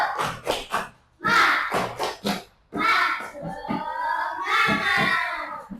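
A classroom of children claps out a rhythmic spirit clap, tepuk semangat, in sharp bursts of hand claps grouped in quick patterns, mixed with their chanting voices and a teacher's voice.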